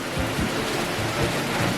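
Steady rain falling at a hotel in Costa Rica, a dense, loud hiss of drops on surfaces continuing without a break, with low rumbling underneath.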